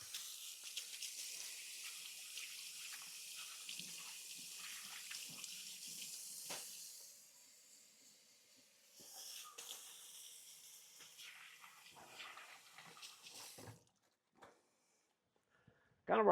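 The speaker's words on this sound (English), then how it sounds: "Let me wash my hands up here real quick." Water hissing from a tap while hands are washed, a steady splashing stream that softens midway, returns, then cuts off near the end, close and fairly quiet.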